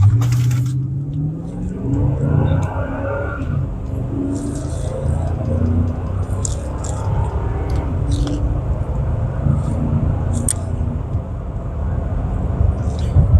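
A car pulls away from a stop and accelerates toward 60 mph with a K&N drop-in air filter fitted. Heard from inside the cabin, a steady loud engine rumble climbs through the gears, with brief clicks and knocks over it.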